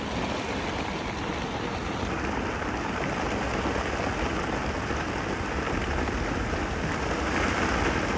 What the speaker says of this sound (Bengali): দৌড় দিছি বৃষ্টির ভিতরে